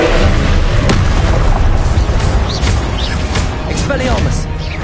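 Confringo fire-spell explosions in the Hogwarts Legacy video game, a loud sustained blast and crackle filling the scene with dense booming energy throughout, with voices present.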